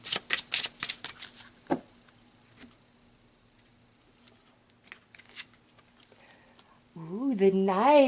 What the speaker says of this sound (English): So let's pull a couple of cards to see what the highlights are of your week